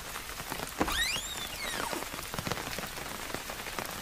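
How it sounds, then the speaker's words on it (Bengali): Steady rain patters on surfaces in a Bengali horror audio drama, a dense hiss throughout with a brief rising and falling whistle-like sweep near the start. "আরে রঘু বাবা, তুমি এই বৃষ্টির মধ্যে?"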